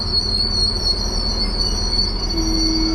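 A train in Germany bound for Bielefeld rolls along the rails with a steady, loud rumble, a continuous high wheel squeal riding on top, and no voices.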